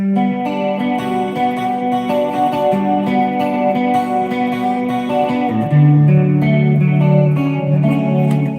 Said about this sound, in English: The slap back you're hearing is from the reverb and the delay on the pedal.